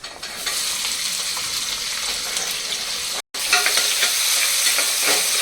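Cumin seeds and chopped small shallots fry in a pan for a mutton kurma, a loud, close sizzle with stirring scrapes that cuts out for a moment and then resumes.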